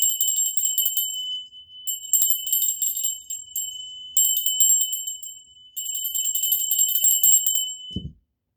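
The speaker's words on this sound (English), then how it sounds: "I'm going to ring the bell." A bell rung repeatedly in several long, rapid trilling bursts with short pauses between, loud and close and ringing alone, ending with a dull thump.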